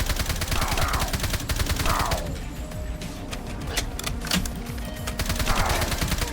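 Rapid automatic gunfire rattles in Minecraft, bursts of machine-gun fire with short pauses between volleys, close and loud, with scattered single shots in the quieter middle stretch.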